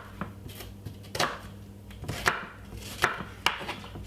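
Half a white onion being finely diced with a knife, giving sharp, irregular chopping taps on a board, close and fairly quiet, with no talking.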